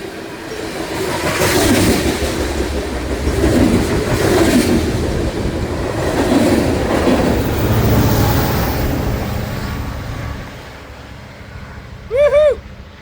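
A long BNSF freight train with a distributed power locomotive rolls past on a Montana line, a loud, steady rumble and rhythmic clatter of wheels over rail that eases off near the end, followed by a brief high tonal squeal.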